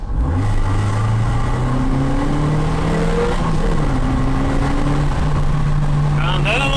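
A Fiat Tempra 2.0 16v fitted with a Race sport air filter accelerates hard, its engine note climbing through gears in a loud, close, continuous drone with a brief dip as it shifts, while people talk inside.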